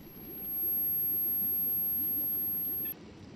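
The controller mutant from the S.T.A.L.K.E.R. Shadow of Chernobyl video game makes an eerie noise: a sustained, droning rumble with a thin, piercing high whine that swells in and cuts off suddenly near the end.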